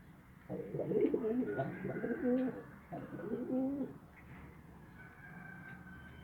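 Domestic pigeons kept at home give soft, rolling coos in several close bursts, low and throaty, with a quieter chirping bird in the background.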